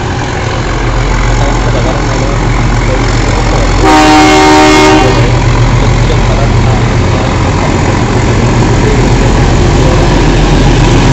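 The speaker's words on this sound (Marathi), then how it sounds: "इथून आलेली आहे आपली लोकल" A Mumbai local train rumbles steadily at a station platform, and its horn sounds loud and close in one sustained blast of about a second near the middle.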